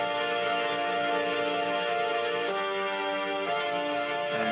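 Synth horns run through Trash and Guitar Rig distortion plugins play sustained, buzzy, harmonically dense chords that shift pitch twice, loud and continuous with no voices.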